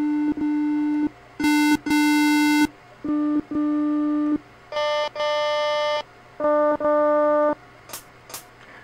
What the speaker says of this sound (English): So I'm going to listen to some waveforms and decide which one I want to use.